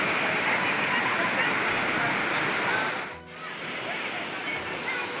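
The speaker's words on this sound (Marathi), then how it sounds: "वॉटरफॉल जोरा चालू झालेला आहे" Manudevi waterfall in the Satpuda hills pours strongly, a steady, dense roar of falling water close by that dips briefly partway through before resuming at a slightly lower level.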